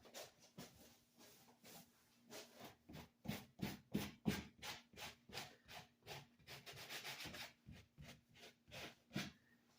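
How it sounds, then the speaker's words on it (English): Rhythmic scraping strokes of hand sanding on the bottom of a concrete vessel repeat about twice a second, gritty and close, with no talking. "I do want to sand the bottom of this."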